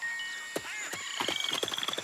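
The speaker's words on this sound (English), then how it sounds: "A poison dart frog!" A poison dart frog calling in a forest, a series of short chirping croaks that quicken into a rapid rhythmic run over a faint whistling background, clear and moderately close.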